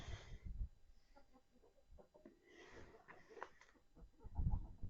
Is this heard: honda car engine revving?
no